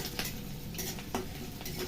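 Chopped onion goes into a hot pan of oil in a home kitchen and sizzles steadily while a utensil stirs and scrapes against the pan, with a few clinks of metal on cookware.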